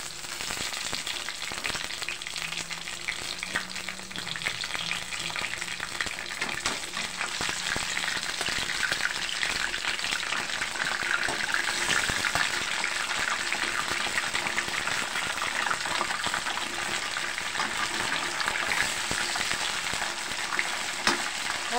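Tilapia frying in reused cooking oil gives a steady, dense sizzle and crackle that holds at an even loudness throughout, close up, with no talking.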